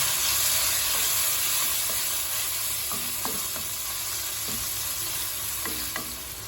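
Onion and chopped tomato sizzle steadily in a hot pan while a spoon scrapes and stirs now and then, with soft clinks over the constant frying hiss.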